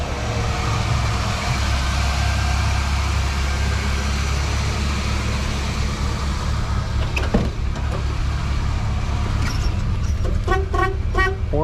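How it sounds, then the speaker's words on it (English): A 1984 Chevrolet El Camino idles with a steady engine rumble, then its horn gives several short toots in a quick burst near the end. "Horn works."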